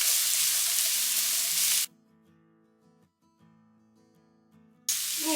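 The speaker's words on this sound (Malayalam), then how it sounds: "ഇനി നമ്മളൊരു പാനിലേക്ക് നെയ്യ് ഒഴിച്ചു കൊടുത്തിട്ടുണ്ട്. ഇനി ഇതിലേക്ക് നമ്മൾ 2 സവാള ചെറുതായിട്ട് അരിഞ്ഞു വെച്ചിട്ടുണ്ട്." Chopped onions sauté in hot ghee in a pan, giving a loud, steady broadband sizzle that drops away for about three seconds in the middle, leaving a faint tonal hum, then returns strongly.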